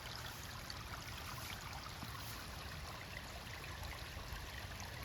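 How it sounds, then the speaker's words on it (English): Water trickles and rushes steadily from underneath an overflowing pond after heavy rain, a continuous faint wash with no voices. "Where it's coming underneath, the water is escaping from underneath"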